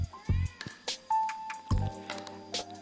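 A kitten with a sprained, limping leg meows repeatedly, close by, several short plaintive cries and one longer drawn-out meow, with light handling noises between.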